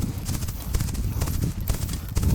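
A horse galloping with rapid, rhythmic clip-clop hoofbeats, loud and close, continuing steadily throughout the ride.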